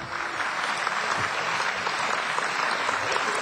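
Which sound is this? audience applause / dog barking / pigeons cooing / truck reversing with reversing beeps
audience applause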